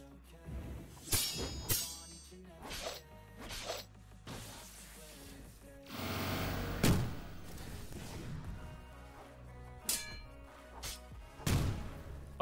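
A video game explosion goes off mid-fight after a missed parry, heard as a few loud broadband bursts, one big blast near the middle, among clanking combat effects and other game sounds.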